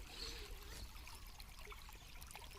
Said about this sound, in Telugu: చూడండి నీళ్ళ శబ్దం ఎలా వినపడుతూ ఉందో